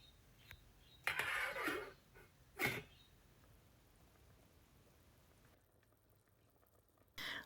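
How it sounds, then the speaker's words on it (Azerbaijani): Faint bubbling and simmering of a pot on the boil, with a couple of brief louder rattling bursts early on, then quiet hiss. "Artıq yeməyimiz qaynayır, bişmək üzrədir."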